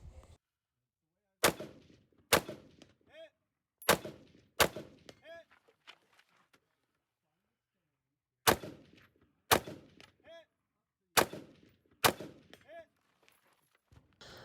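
Short-barrel rifle fired at a practical shooting stage, sharp loud cracks in quick pairs with pauses between groups, each shot ringing out briefly outdoors.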